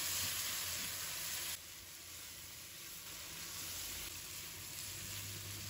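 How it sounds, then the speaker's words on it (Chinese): Beef brisket stir-fries in a wok with salt and soy sauce, giving a continuous faint sizzle and hiss with small shifts in texture as the meat is tossed, without any talk. "把牛腩炒上色"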